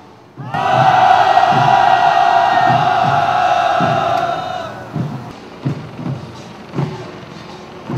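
Union marchers at a Ssangyong Motor protest march in Seoul, July 2009, let out a loud, sustained collective roar for about four seconds, then it fades into scattered shouts and rhythmic chanting bursts.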